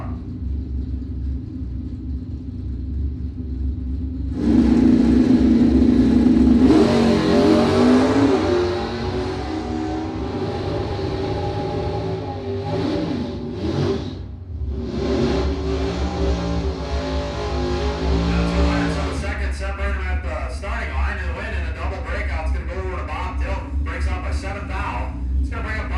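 A drag racing car at a bracket event, an F stock automatic car, revs loudly with a steady rumble that surges near the start and rises again later, with an announcer talking over it.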